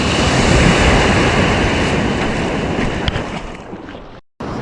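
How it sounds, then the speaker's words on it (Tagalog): Big, high ocean waves surging continuously and loudly close by, a heavy roaring wash mixed with wind buffeting, briefly cutting out near the end before resuming. "At medyo malalaki po yung alon, matataas."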